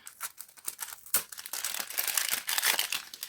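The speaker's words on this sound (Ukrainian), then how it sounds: "І ми взяли з вами один пакетик. Давайте відкривати." A paper surprise packet being opened by hand, a Disney-themed homemade paper surprise containing a sticker and a heart-shaped candy. Close, soft crinkling and rustling builds from scattered crackles into steadier tearing and crumpling, with no talk.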